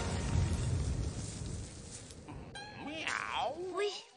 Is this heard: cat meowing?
yes